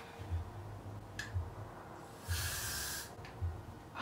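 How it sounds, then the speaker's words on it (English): Short bursts of hair freeze spray hiss from an aerosol can, one brief puff followed by a longer spray of about a second, faint and close, with soft handling noises in between. "I'm gonna spray some freeze first."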